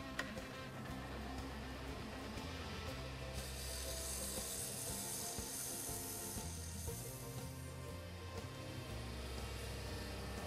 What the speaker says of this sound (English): we sand in succession, starting with 150